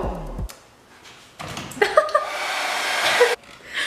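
A hair dryer blows steadily in a small college bathroom, starting partway through with a broad rushing hiss that runs near and fairly loud, with brief clicks and chatter around it.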